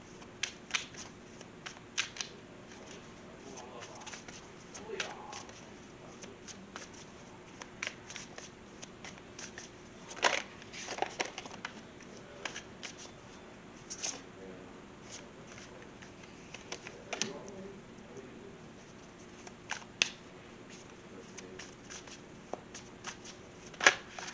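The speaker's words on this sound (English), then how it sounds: "So I'm just gonna shuffle these cards here" Tarot cards shuffled steadily by hand for a long stretch, a soft continuous riffle broken by sharper slaps and snaps, close and fairly quiet, with no talking.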